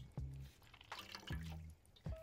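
Water drips and trickles off freshly rinsed octopus, lobster, crab and shrimp being squeezed by hand at an outdoor cooking setup, with a few close, quiet splashy drips.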